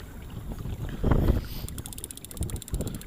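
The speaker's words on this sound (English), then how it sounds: "Wind have picked up now, all a bit," Wind gusting over an inflatable boat at sea in the Bristol Channel while cod fishing, a steady rushing roar with a louder buffet midway and slapping water, close to the microphone.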